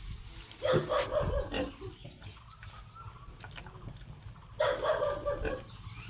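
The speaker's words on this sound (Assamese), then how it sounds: "এইটো অৱস্থা এটা গাহৰি পোৱালি।" A small, weak piglet that cannot stand gives two short bursts of grunting and snuffling squeals nearby, separated by a quieter stretch of faint background noise.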